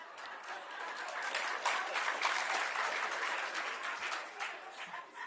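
A room full of people applauding at an SAPS human capital event, dense steady clapping that swells and holds for several seconds before gradually thinning out.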